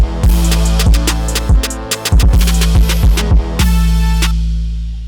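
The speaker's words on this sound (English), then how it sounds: "I kind of did a snare roll to kind of do a little bit of a transition to it" A beat with heavy bass and punchy drums, featuring a quick snare roll that builds into a transition, loud and continuous.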